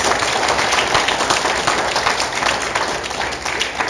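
A church congregation applauds during a sermon, loud, dense and continuous clapping from many people close by that holds steady before easing slightly near the end.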